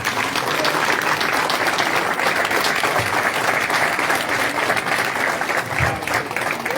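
A crowd at a campaign candidacy presentation applauds steadily, with dense continuous clapping that stays loud and even throughout and no break.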